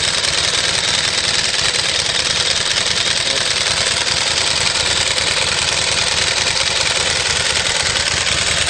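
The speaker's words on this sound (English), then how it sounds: "it's got a Ducati L-twin engine. It's got the 1100 air-cooled 4-valve engine" A Bimota motorcycle powered by a Ducati 1100 air-cooled four-valve L-twin engine idles close by, a steady loud rumble that runs unbroken from start to finish with no one talking.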